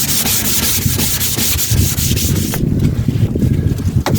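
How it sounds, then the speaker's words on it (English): Wet and dry sandpaper rubs back and forth over a car headlight in steady, close, gritty strokes, with faint wind noise in the background and no talking. "Give it a quick wet sand."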